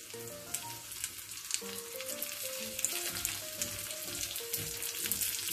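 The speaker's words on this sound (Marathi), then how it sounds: "इथे मी काही कटलेट शॅलो फ्राय करत ठेवलेले आहेत" Beet cutlets shallow-frying in hot oil sizzle steadily and closely, a constant crackling hiss with no talk.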